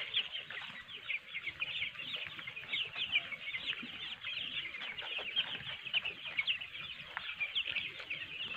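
A large poultry house holding thousands of chickens fills with dense, continuous clucking and chatter from many birds at a steady moderate level, with no voices.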